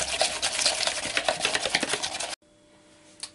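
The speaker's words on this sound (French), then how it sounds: "Et à l'aide d'un fouet, on va venir blanchir la préparation." A whisk beating a pancake mixture in a bowl, with quick, steady rhythmic scraping strokes for a couple of seconds, then a sudden stop and near quiet.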